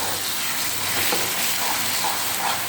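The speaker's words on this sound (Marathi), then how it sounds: "आणि असं हे दोन्ही एकत्र हलवले जाणार आहे." Mango pulp and grated raw mango are stirred together in a pan over low heat for jam, a steady soft sizzle and hiss with faint stirring scrapes close by.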